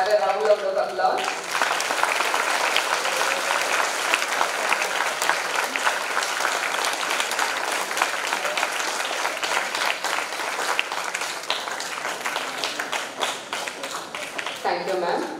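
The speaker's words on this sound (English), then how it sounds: "Can we have a round of applause?" An audience at a school event breaks into sustained applause, dense clapping from many hands lasting over a dozen seconds, loud and even, with a brief voice at the start and end.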